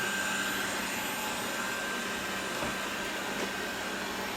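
A Tesvor X500 robot vacuum cleaner runs with a steady, fairly quiet whirring hum and a faint high whine, alone and unbroken.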